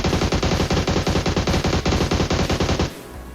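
Automatic gunfire in a battle-royale style shooter game, a loud rapid burst of continuous shots lasting nearly three seconds, then cutting off to quiet background noise.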